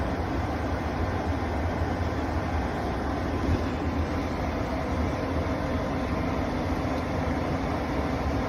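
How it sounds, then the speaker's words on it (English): A furnace ventilator (inducer) motor starts up and runs, a steady close broadband whir with a low rumbling hum held evenly throughout, no voices. "ventilator motor start up. That removes all the carbon monoxide out of the heat exchanger."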